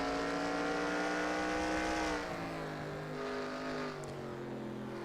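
Stock cars race at Bristol in the NASCAR Racing 2003 video game, their engines droning loud and close in a sustained harmonic whine that drops in pitch partway through, as if easing off or passing, with no talk over it.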